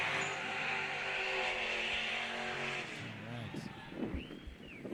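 Drift car on a hairpin during a Spec-D Zestino Tires round in 2017, dragging its e-brake: loud sustained engine drone with tire noise, then a drop and lighter revving with a voice talking over the end.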